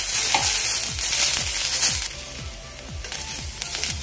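Ginger and garlic frying with onion in a pan for a Khandeshi shev bhaji curry: loud, steady sizzling with a regular scraping stir about every half second.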